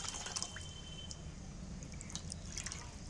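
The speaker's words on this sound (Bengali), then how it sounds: "এই জলটার মধ্যে লেবুর জলটা দিয়ে দিচ্ছি" Lemon juice poured from a small container into water in a bowl, giving soft close drips and trickles over a low steady background hum, with no talking.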